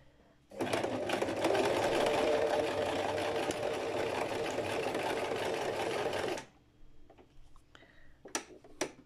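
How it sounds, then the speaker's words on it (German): A sewing machine stitches fabric envelopes for storage bags, running steadily and loudly for about six seconds before stopping, followed by faint handling clicks. "Die Umschläge zu nähen. Mal schauen, ob das klappt."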